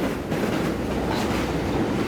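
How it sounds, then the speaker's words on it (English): A subway train rumbles past on the Manhattan Bridge, a loud continuous roar with rattling clatter, heard up close for a brief moment. "then we got the train"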